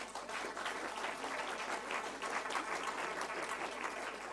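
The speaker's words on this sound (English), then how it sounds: "I believe you also deserve a big round of applause" Audience at a book launch applauding, a continuous crackle of many hands clapping, fairly quiet and distant, steady from start to finish with little talk.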